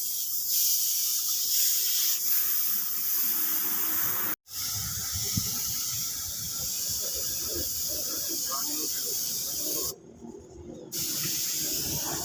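A spray gun hisses steadily while painting a motorbike body panel, a continuous airy spray with a short break near the middle and another brief pause later, and people talk in the background.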